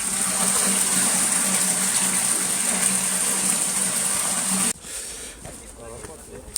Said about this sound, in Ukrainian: А ця зараз вода це вся сюди збігає